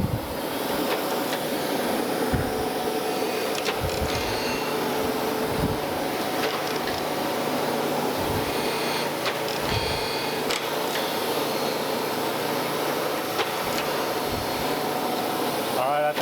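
A surface grinder steadily grinds a camelback straightedge flat, producing a continuous loud broadband whir with a low hum and faint periodic thumps from the passes, running without a break for the whole stretch.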